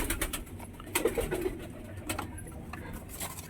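Pigeons coo softly in a loft where young birds have hatched, a low murmuring call repeating a few times under steady background noise.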